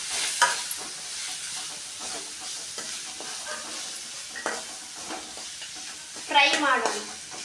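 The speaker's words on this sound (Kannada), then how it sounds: "ಇದೆಲ್ಲ ಘಾಟ್ ಹೋಗೋ ಮಟ್ಟ ಎಲ್ಲ ಚೆನ್ನಾಗಿ ಇದನ್ನ 1-2 ನಿಮಿಷ ಹುರಿಬೇಕು." Ground mint paste sizzles and fries steadily in a hot pan while being stirred, with occasional louder scraping bursts and no talk over it.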